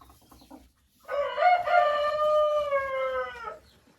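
Hens of mixed breeds give a drawn-out, harmonic crowing squawk inside a coop, loud and close, rising after a second of quiet and holding for about two and a half seconds before cutting off.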